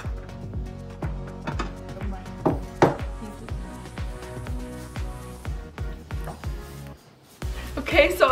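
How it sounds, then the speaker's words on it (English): A knife slices through a loaf of garlic bread on a board, a quick rhythmic series of close, firm chopping thuds, some louder crunchy strokes near the end, with no talk. "We're also gonna have some garlic bread, so I'm just gonna slice this up and warm it up."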